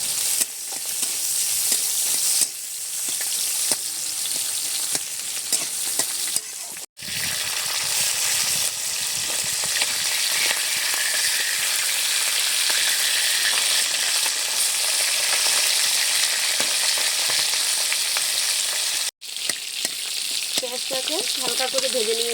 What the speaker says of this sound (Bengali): পাঁচ ফোড়নটাকে দিয়ে একটু নেড়ে চেড়ে নিচ্ছি